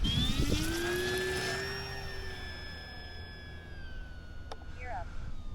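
An E-Flite T-28 Trojan electric RC model warbird at a flying club, its motor whining in a rising then steady tone as it starts off, with a sharp click partway through.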